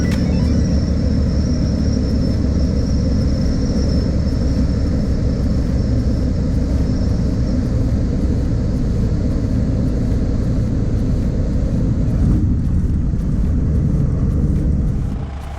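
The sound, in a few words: light sport airplane engine in flight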